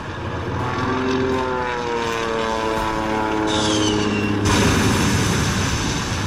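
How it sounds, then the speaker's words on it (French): A Stuka dive bomber from the game Panzers drones past with a steady propeller engine roar, loud and continuous, its pitch sliding slightly as it passes, with battle noise layered underneath. "T'en fais pas, c'est un Stuka."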